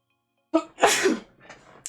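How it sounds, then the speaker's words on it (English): One sharp, close sneeze with a quick intake of breath beforehand, followed by a softer trailing exhale, with no talking. "I need to sneeze"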